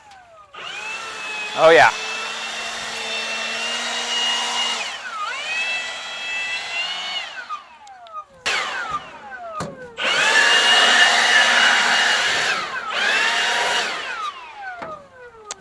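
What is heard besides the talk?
blower blowing out an S10 pickup truck bed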